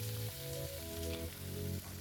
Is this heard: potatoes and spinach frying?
yes